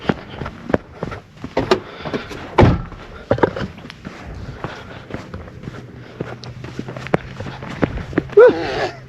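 A door slams shut outdoors in the Rig-e Jenn desert of Iran, a single loud thump among scattered footsteps, knocks and thuds from people moving about nearby.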